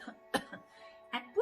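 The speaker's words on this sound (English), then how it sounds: "If you can just try to do a cough," A person gives a few short, sharp coughs spaced apart, close to the listener, with brief quiet gaps between them, demonstrating during a Kapalbhati Pranayama yoga lesson.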